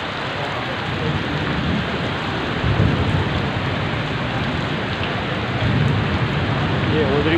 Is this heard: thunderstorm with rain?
yes